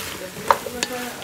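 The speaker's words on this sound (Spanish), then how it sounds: "Ahorita lo vamos a revolver bien." Pumpkin soup with roasted cauliflower being stirred in a pot: a brief, soft stir with a couple of light spoon clinks over a low simmering hiss.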